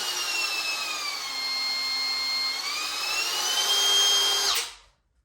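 A DeWalt DCW600 cordless 18V palm router runs with a high, steady whine that shifts pitch slightly as the speed changes, then cuts off abruptly and winds down to silence.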